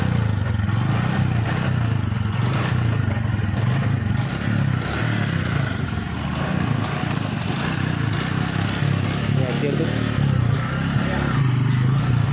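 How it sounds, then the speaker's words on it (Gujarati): A motorcycle engine idles steadily after a kick start, with Thums Up soft drink poured into it and oil in the silencer, giving a continuous loud, slightly rough rumble with faint clatter throughout. "તો મિત્રો બાઇક સ્ટાર્ટ થઈ ગઈ છે।"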